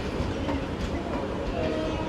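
The Sabari Express, a superfast train on the Tirupati to Secunderabad run, gives a steady loud rumble and rattle at a railway platform, a continuous dense roar with no clear horn.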